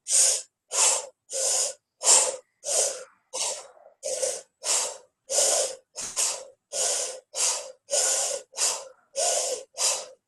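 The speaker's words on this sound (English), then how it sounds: "you're going to breathe like this for 10 counts" Rhythmic, forceful breaths through the mouth, about fifteen evenly spaced bursts in steady succession, close and loud with short pauses between each.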